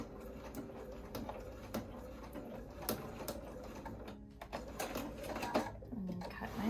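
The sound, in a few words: sewing machine back stitching a tote seam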